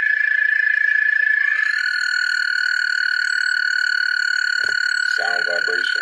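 A loud, continuous high trilling chorus of frogs, steady throughout, with a brief knock and a few lower chirping calls near the end.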